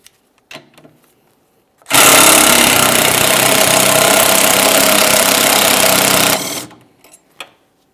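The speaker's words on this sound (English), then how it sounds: "I can continue on with removing that mounting nut" A power tool whirs loudly and continuously for about four seconds while spinning off the sway bar link mounting nut on a Mitsubishi Lancer, bracketed by a few quiet clicks and clanks of handling before and after.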